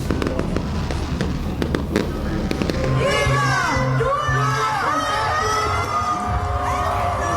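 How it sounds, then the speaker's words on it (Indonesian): A New Year's Eve fireworks display at GWK in Bali booms and crackles continuously, loud and dense, with a cheering crowd, screams and children's voices mixed in throughout. "Pesta kembang api di GWK ini berlangsung selama kurang lebih 5 menit."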